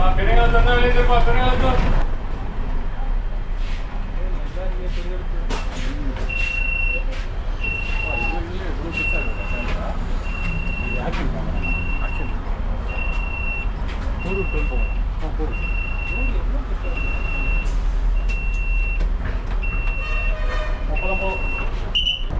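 An MTC city bus on a road from Guduvancheri to Koyambedu comes to a stop, with a loud continuous engine rumble and repeated high-pitched beeps sounding at regular intervals, plus brief talk at the start.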